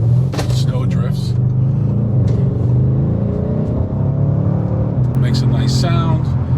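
An Audi RS6 Avant engine drones loudly and steadily nearby, a deep rumbling hum that holds throughout, with a voice speaking briefly over it.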